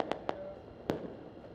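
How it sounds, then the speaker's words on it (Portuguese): Several sharp cracks of fireworks pop at a distance in a favela during a police operation with gunfire, three quick bangs spaced irregularly against faint background noise. "Em outro ponto, mais troca de tiros e mais fogos."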